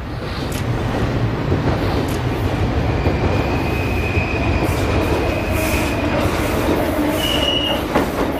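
A train on the Santos-Jundiaí railway line rumbles past loudly and close. Wheels squeal and clatter in a steady rhythm, and high metallic screeches rise above the continuous roar.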